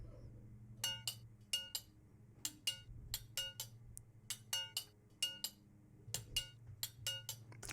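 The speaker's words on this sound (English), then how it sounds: "This is like a glass percussion that I put in there on the second part of the chorus." Glass percussion in the second part of a song chorus, rapid bright clinking strikes in short rhythmic bursts over a low soft musical bed, fairly quiet and with no voices.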